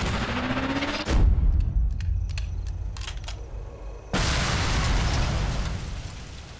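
A Panzerschreck rocket slams into a tank in Sniper Elite III, two heavy explosive blasts about three seconds apart, each followed by a long roaring rumble, with crackling debris and scattered pops between them.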